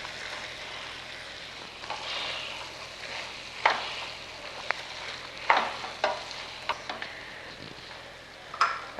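Capsicum is stirred into vegetable upma frying in a pan, with steady sizzling throughout. Scattered clicks and scrapes from the spoon stand out, with no voices.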